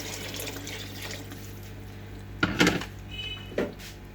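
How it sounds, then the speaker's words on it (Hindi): Water is poured into a pot of turnip and meat curry, a soft steady trickle with a couple of brief splashing bursts and a clink of the pot, close and fairly quiet, with no talking. "तकरीबन हम 2 गिलास पानी के जो है वो डालेंगे।"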